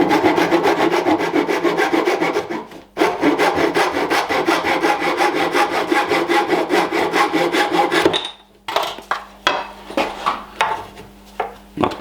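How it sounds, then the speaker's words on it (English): A wooden dowel is hand sawn to length for traditional mortise and tenon joinery on a Viking bed. Fast, loud back-and-forth rasping strokes run steadily with a brief pause, then slower, separate strokes finish the cut. "I will pre-cut the dowel with a little bit of margin in the length."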